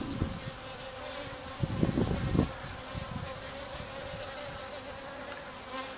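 Honeybees hum steadily around a hive just moved up from a nucleus box, a continuous outdoor drone with a brief louder burst of closer buzzing midway.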